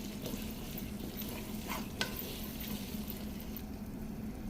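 Chicken frying in a pan and being stirred, a continuous hiss and sizzle with occasional spoon scrapes and a brief clack near the middle, heard up close at low volume with no speech.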